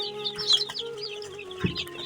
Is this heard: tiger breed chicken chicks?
yes